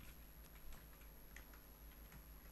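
Computer keyboard being typed on during coding, a faint run of light, irregular key clicks over a steady electrical hum.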